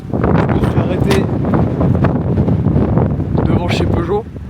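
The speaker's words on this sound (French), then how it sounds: "il y a tellement de vent que ça me pousse la portière" Strong gusting wind buffets the microphone in a loud, steady rush beside a Peugeot 406 Coupé V6 parked outdoors, strong enough to push its door, while someone talks over it.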